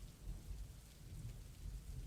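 Steady, relentless rain pours in a video game storm, with low thunder rumbling continuously beneath the downpour; no one speaks.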